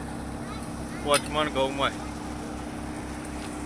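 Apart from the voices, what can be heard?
farm tractor engine running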